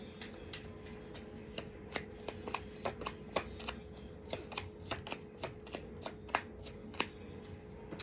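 Tarot cards being shuffled, a run of crisp riffling clicks and flutters in an irregular rhythm over about eight seconds, close and moderately quiet against a faint steady background hum, with no talking.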